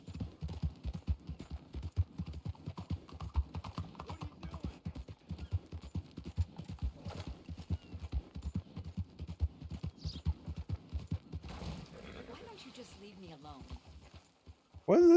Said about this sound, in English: I don't like riding a small horse.